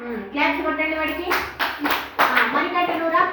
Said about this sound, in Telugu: క్లాప్స్ కొట్టండి వాడికి.